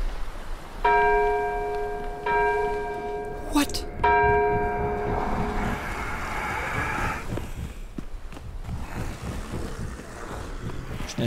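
Church bells in the fishing town of Innsmouth in a horror video game ring out in two clear bursts of struck tones, then fade into wind and soft ambient rumble.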